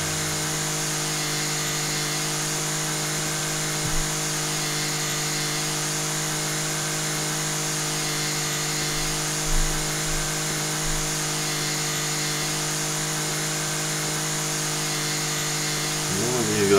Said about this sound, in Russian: сейчас с триммером будем равнять.